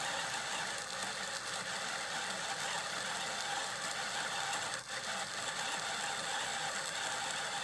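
A coffee grinder set at 180 grinds very light-roasted Pink Bourbon beans with a steady, dense mechanical grinding rasp, close and continuous with no pauses.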